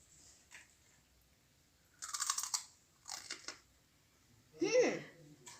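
Crunchy Kellogg's Choco Fills cereal being chewed close to the microphone, with three short bursts of crunching separated by quiet pauses, and a brief voice near the end.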